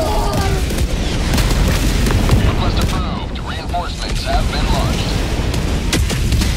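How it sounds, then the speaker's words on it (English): Continuous heavy rumbling of an orbital barrage pounding the ground in a video game, dense overlapping booms and crackling blasts at close range with no pause, while distant voices shout faintly underneath. "Filing orbital barrage."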